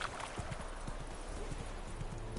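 Horse hooves clip-clop at a steady walking pace in The Witcher 3 video game, fairly quiet and even under a soft ambient background.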